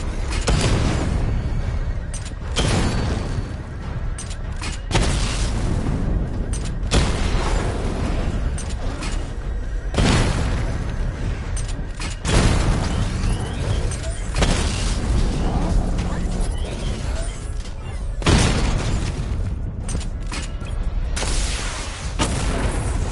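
Missile barrage explosions in a Batman video game, a series of heavy booms and bursts recurring every few seconds over a dense rumbling mechanical backdrop.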